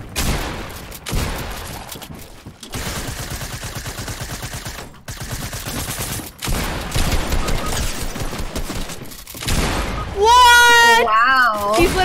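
Pump shotgun blasts in Fortnite gameplay, heard as several loud, sharp bursts among game sounds, with a player talking over them.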